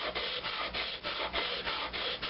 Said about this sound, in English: I've just got a piece of 80 grit sandpaper here on a slab of granite